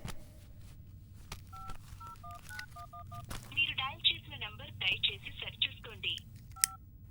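A phone is dialed with a series of short two-tone keypad beeps, separate at first and then faster, fairly faint, mixed with chirpy electronic tones and soft background sound.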